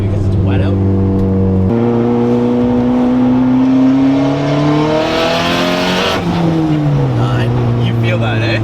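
Stock Honda Civic engine pulling hard under turbo boost on a wet road, loud rising engine note climbing steadily through the gears with a dip and shift near the end, heard from inside the car with people talking over it.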